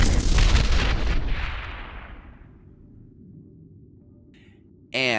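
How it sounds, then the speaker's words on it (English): A single explosion sound effect booms loudly at the start and rumbles away over a couple of seconds into a low tail, followed by a short sharp burst near the end. "and an explosion."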